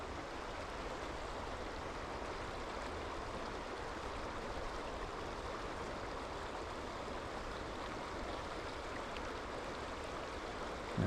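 A stream flows beside a hiking trail along the Chagrin River area, a soft, steady rush of water that holds evenly in the background with no voices.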